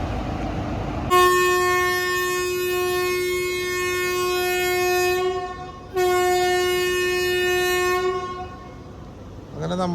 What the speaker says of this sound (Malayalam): അങ്ങനെ നമ്മുടെ LHB ആയിട്ടുള്ള നമ്മുടെ ട്രെയിനിൻ്റെ റണ്ണ് നമ്മളിതിവിടെ സ്റ്റാർട്ട് ചെയ്തിരിക്കുക കേട്ടോ.